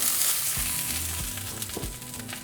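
Oil being brushed onto a comal preheated on medium heat, a close crackling sizzle with a few soft low thumps and brush strokes, fading slightly toward the end, no speech.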